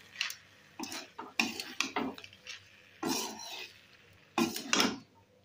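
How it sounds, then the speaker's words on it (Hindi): Utensil scraping and clinking against a pan while flattened rice poha is stirred into roasted masala, in irregular bursts of stirring with short pauses. "अब इसमें पोहे को डाल दूंगी। तरीके से मिक्स कर लेना है।"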